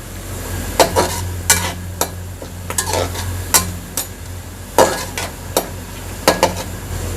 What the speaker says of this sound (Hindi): अब ये साथ साथ साबुत मसाले भी भुने जाएंगे और थोड़ा सा प्याज और फ्राई होगा